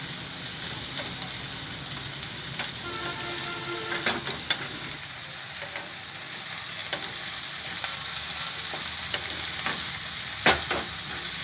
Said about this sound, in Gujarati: તો ડુંગળીને આપણે હવે આને આપણે સડવા દેવાની છે